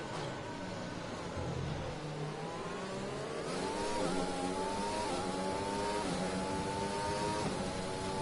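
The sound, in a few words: Mercedes F1 car engine in a racing video game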